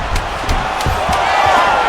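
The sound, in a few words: crowd cheering in EA Sports UFC 5 video game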